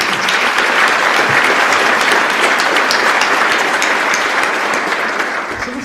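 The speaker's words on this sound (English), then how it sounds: "Please give Satya a round of applause." A seated audience gives sustained, loud applause to welcome Microsoft CEO Satya Nadella at an on-the-record interview event, a dense steady clatter of many hands that tapers slightly at the end.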